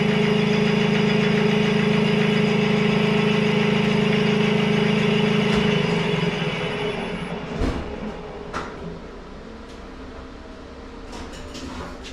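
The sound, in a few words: machine spinning a Mini crankshaft up to 800 RPM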